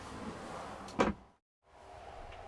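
A large kitchen drawer in a 2022 Roadtrek Zion Class B camper van slides open with one short, close rolling clack, followed by brief silence.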